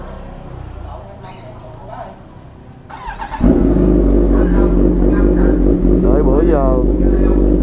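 A big-displacement motorcycle engine starts about halfway through with a sudden loud roar, then holds a strong, steady idle with rumbling revs close by, after brief talk beforehand.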